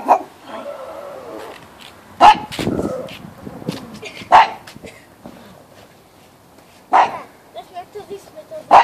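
A small dog barks in sharp, separate yips spread across the clip, some loud and close. Someone speaks Greek between the barks, and a soft whimper can be heard.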